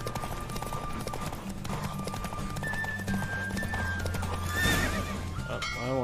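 A galloping horse in a Witcher 3 race clatters with quick, steady hoofbeats, then lets out a loud neigh near the end, with no talking over it.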